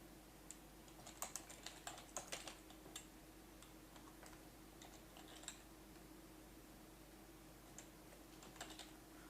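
Faint typing on a computer keyboard, irregular clusters of light clicking keystrokes over a constant low background hum, with no talking.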